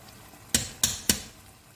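Three quick metallic scrapes of a spoon against a pan while stirring ghee into halva, sharp and evenly spaced over a quiet background.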